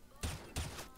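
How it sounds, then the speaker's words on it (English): Gunshots in CS:GO fired through a wall, three sharp loud reports spaced roughly a third of a second apart, close and punchy with brief reverberant tails. "Kinda shot you through the wall."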